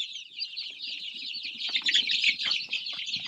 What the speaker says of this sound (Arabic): هذيك الحبه اللي كتشوفوها بيضاء هذيك راه دجاج فرنسي